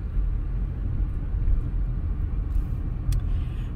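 Car driving along a narrow rural road, a continuous low rumble of engine and tyres heard from inside the vehicle, steady and moderately loud without speech.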